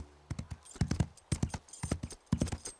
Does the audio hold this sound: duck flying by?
no